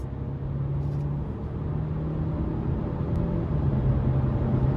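A car accelerating hard on the road gives a steady engine drone with constant road and wind noise, growing slightly louder toward the end.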